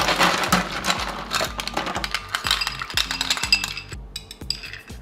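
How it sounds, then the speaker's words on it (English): Ice cubes clinking and clattering as they are packed into a cocktail glass, a dense run of close, bright knocks and chinks with a rhythmic rattle throughout. "Then just pack it with ice."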